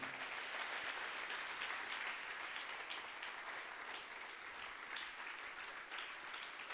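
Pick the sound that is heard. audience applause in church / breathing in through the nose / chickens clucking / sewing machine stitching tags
audience applause in church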